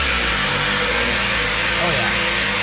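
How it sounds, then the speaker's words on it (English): Wire wheel scrubbing old concrete off the steel fender of a 1957 Bug, a loud, steady, close abrasive whir with no pauses. "I think my wire wheel's gonna get it off of here now."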